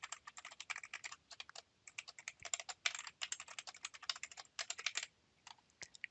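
Quick bursts of keystrokes on a computer keyboard as an ID and password are typed, with close, crisp clicks in uneven runs and brief pauses, fairly quiet with no talking.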